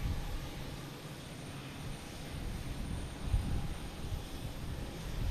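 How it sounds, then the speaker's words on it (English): A Scandinavian airliner bound for Copenhagen taking off on runway 9 at Boston Logan Airport, heard as a steady, distant broadband engine roar with no voices. "Next to take off should be Scandinavian, taking off on 9"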